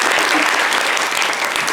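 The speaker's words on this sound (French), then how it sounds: "applaudissements pour elle" Dense, loud applause from a studio audience on a live television set, continuous clapping with no break.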